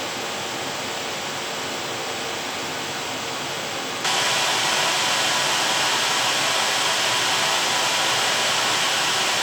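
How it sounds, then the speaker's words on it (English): Asus ROG Flow X16 laptop, 2023 model, its cooling fans whooshing as a steady broadband hiss that steps up abruptly to a louder, brighter rush partway through, with no voices. "I would call the Flow X16 one of the best in fan noise for how much performance it gives you"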